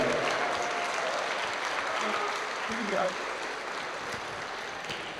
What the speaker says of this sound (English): Let's get a big round of applause right now, please, for the best man